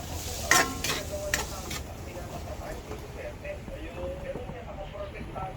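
Bitter gourd (ampalaya) sautéing in a pan, a steady low sizzle with a few sharp clatters of stirring near the start, continuing under quiet background noise.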